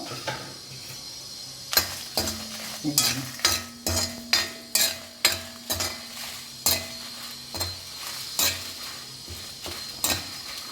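Dried red chillies fry in a pan, with a quiet sizzle under about a dozen sharp clinks and scrapes of a spoon against the pan.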